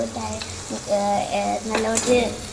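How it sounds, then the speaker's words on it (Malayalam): Butter sizzling in a pan with chopped garlic for a vermicelli breakfast, a steady frying hiss broken by stirring scrapes and a few light clinks of utensil against the pan. "അപ്പൊ നമ്മൾ ഒരു പാത്രത്തിലേക്ക് ആദ്യം ബട്ടർ ഇട്ട് കൊടുക്കുന്നുണ്ട്"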